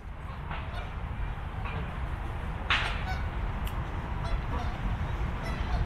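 Scattered honking calls from ducks in a park over a constant low outdoor rumble, a few sharp squawks standing out among fainter ones.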